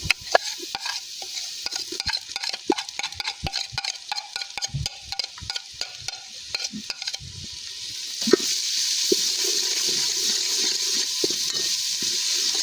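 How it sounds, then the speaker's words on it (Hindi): Whole spices sizzling in hot ghee in a pan with dried fenugreek leaves, for tomato sauce pasta seviyan, with scattered crackles and stirring clicks that settle into a steady frying hiss. "अब इसके स्पाइसेस को मैं 2 मिनट में इसको भूनूंगी घी के अंदर"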